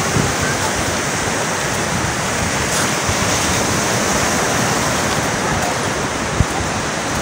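A flooded stream on an island rushes with a loud, steady roar of churning water during a flood. The noise is dense and unbroken throughout, with some wind buffeting.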